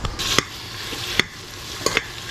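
Onions and mushrooms frying in a pan, with a soft continuous sizzle broken by a few sharp scrapes and clinks of stirring spaced about a second apart.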